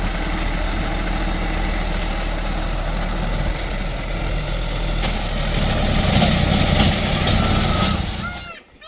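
A motorized tiller ploughs soil between rows of areca palms in a garden planted with green manure, its engine a steady, close, rumbling drone that runs unbroken and cuts off abruptly near the end.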